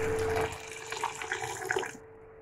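Tap water runs into a sink as cluster beans are rinsed in a home kitchen, a steady splashing stream that shifts and gurgles for about two seconds before cutting off.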